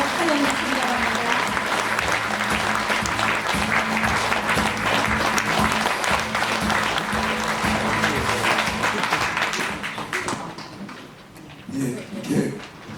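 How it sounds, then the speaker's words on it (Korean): Steady, loud audience applause at a Korean book-launch event greets the author, Jongno district mayor, as he comes on stage, with a live band playing underneath; it thins out near the end as a voice begins. "여러분 뜨거운 박수로 환영해 주시기 바랍니다."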